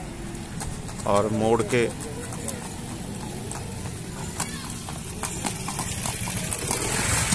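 A horse for sale being turned and walked, its hooves clip-clopping on hard ground in a loose rhythm under someone talking in Hindi, with faint background bird calls.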